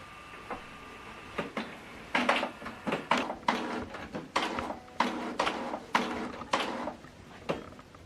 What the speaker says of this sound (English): Switch the printer on.